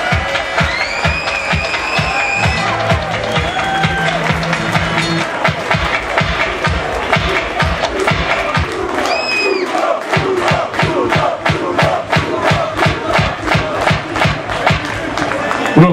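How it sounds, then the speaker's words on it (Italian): A large crowd at a basketball celebration in Cantù for the Supercoppa claps and cheers loudly, dense continuous applause with rhythmic clapping building in the second half and shouts and whistles throughout. "Signori, super applauso per il direttore sportivo, Bruno Arrigoni!"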